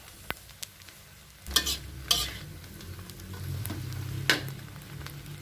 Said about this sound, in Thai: ไม่ได้ใส่น้ำมัน เยอะนะชาวโลกคั่วเอา แค่นี้ก็พอละ น้ำมันไม่ต้องเยอะมาก